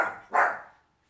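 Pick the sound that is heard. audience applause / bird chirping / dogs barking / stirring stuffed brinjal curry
dogs barking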